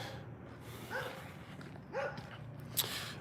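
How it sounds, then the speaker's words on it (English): Dogs bark a couple of times at a distance, two short sharp yelps about a second apart over a low steady background hum, with a faint click near the end. "Fucking loud ass dogs."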